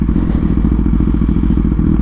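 A motorcycle engine revving hard in neutral, loud and close, with a steady rough mechanical roar and rattling texture throughout the short burst.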